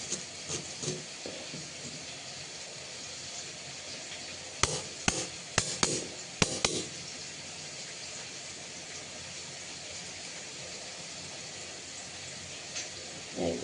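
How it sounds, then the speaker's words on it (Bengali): A knife cutting potatoes in a home kitchen, a short run of sharp, close chopping clicks in quick succession against a board, over a faint steady background hiss. "এবার আলু কাটবো"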